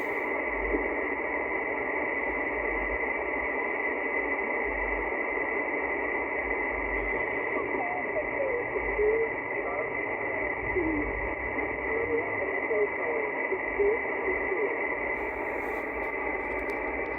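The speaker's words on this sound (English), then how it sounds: "The station is calling CQ there." Shortwave receiver tuned to an amateur radio station calling CQ from a parking-lot portable setup, heard as a steady hiss of band noise with faint, warbling signal traces running the whole time and no clear voice.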